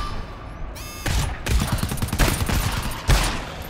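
Gunfire in the co-op shooter GTFO comes as rapid bursts of close, loud shots that break off and start again in quick succession.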